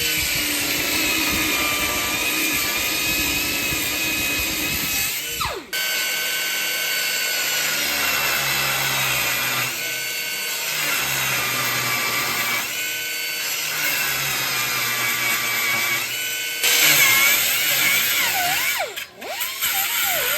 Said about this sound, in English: I'm gonna cut that wheel loose right there.